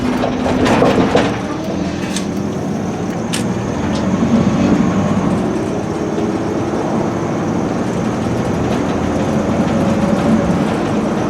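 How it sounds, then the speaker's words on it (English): A 2002 Chevy Astro cargo van cruises at about 55 mph, with a loud, steady interior road and engine drone, rumbling tires and a few rattles and knocks early on. "get it up to about 50, 55 miles an hour. Just be quiet, let you listen to the ride"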